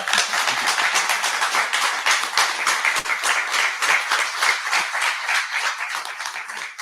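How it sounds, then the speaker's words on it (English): Dense, steady applause from an audience at a tech forum, many hands clapping continuously at close range with no break. "See, clapping."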